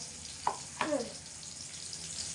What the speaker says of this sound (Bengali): এদিকে লঙ্কা দিয়ে দিলাম, লঙ্কা আর পেঁয়াজটা ভেজে নিই